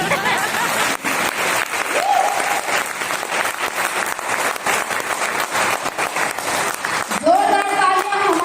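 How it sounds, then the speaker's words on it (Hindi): A crowd at a speech event gives loud, sustained applause, a dense patter of clapping that runs throughout, while a voice speaks over it near the end. "जोरदार तालियां हमारी माँ के लिए"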